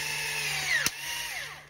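A cordless power drill with its clutch set to 13 drives a screw into a 1:10 scale RC ball differential. The motor whines briefly and rises in pitch, then a sharp click comes as the clutch slips.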